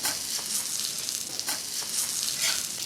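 Hamburger patties frying in a pan give off a steady, close sizzle that runs without a break, with a few brief louder crackles and spits and no talking.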